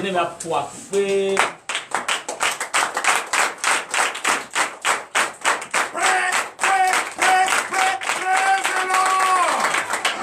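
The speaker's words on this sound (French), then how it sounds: "Veuillez vous lever et donner de vives acclamations." Church congregation at a Sunday worship service breaks into loud, dense clapping and cheering that carries on steadily, with voices rising through it and a sustained sung or shouted tone near the end.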